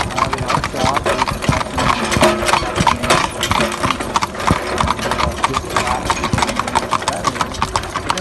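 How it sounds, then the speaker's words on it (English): Horse hooves clip-clop steadily on tarmac, a close, busy rhythm of shod steps from working horses, with an engine idling and some voices in the background. "these particular horses are working on tarmac."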